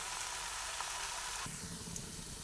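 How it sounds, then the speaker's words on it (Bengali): Young jackfruit stir-fries in a pan over a lowered gas flame, a steady close sizzle with a sharper frying hiss after a stir midway, alone without talk. "এঁচোড়টা দেখুন বেশ কষিয়ে কষিয়ে রান্না করে নিচ্ছি"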